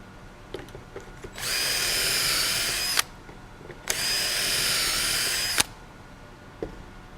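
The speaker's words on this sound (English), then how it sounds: "then you're ready to drill" A power drill runs in two bursts of about two seconds each, drilling a pocket hole in a board clamped in a jig, a loud high whir with a sharp click at each stop, in a quiet room.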